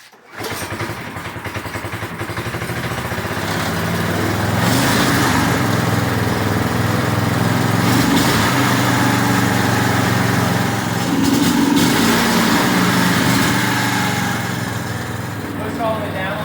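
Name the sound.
1980s go-kart Tecumseh 5hp engine running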